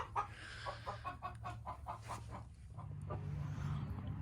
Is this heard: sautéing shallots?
no